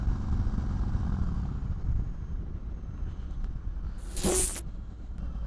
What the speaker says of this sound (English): out riding my motorbike